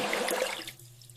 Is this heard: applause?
no